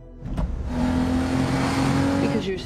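A car accelerates and pulls away in an action chase, engine revving steadily and loud for a couple of seconds, with a brief tire squeal toward the end.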